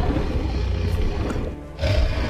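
A Spinosaurus in the game Jurassic World Evolution lets out a deep, drawn-out roar that rumbles strongly for over a second, dips briefly, then swells again, heard alone without talk.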